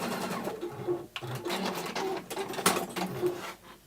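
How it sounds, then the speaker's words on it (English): A sewing machine stitches a fabric tab across a cosmetic bag, running in steady, close, humming bursts with brief pauses between runs. "I'm just going to sew the tab across."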